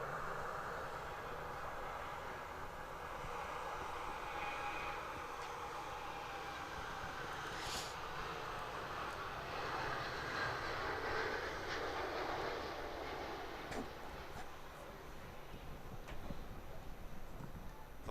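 A Boeing 787 jet departs Manchester Airport on a windy, rainy day, its broad engine roar rising and holding steady for a long, sustained stretch at moderate distance.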